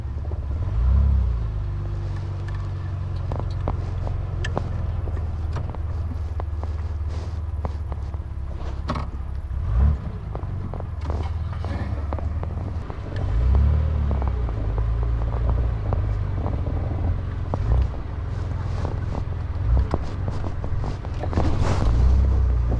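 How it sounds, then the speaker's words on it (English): Classic Bentley car arriving at an outdoor car show, a low rumbling engine passing close by in a steady drone with wind buffeting the microphone and a few swelling surges, no talk. "just coming in behind this magnificent Bentley"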